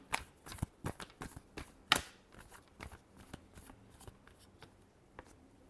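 Tarot cards are shuffled nearby in quick flurries of riffling and snapping, loudest in the first two seconds, then softer, scattered card slaps in a quiet room.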